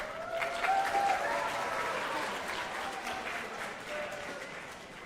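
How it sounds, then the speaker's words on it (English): An audience at a TEDx event claps steadily throughout, a full round of applause, with faint voices and a few whistle-like tones rising over it. "give a round of applause to our two awesome volunteers"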